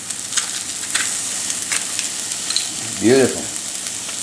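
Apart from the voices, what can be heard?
garlic cloves sizzling in a frying pan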